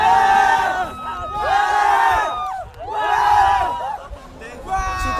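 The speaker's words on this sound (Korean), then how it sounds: "응원석에서 커다란 함성이 터져나옵니다" A crowd of high school students roars and cheers in the stands at a school sports event, loud swelling waves of shouting voices with brief lulls between.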